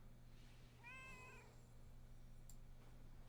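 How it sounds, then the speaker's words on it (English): A cat meows once in a video game, a short rising-and-falling call over a steady low hum, with a faint click shortly after. "What kitty noise was that?"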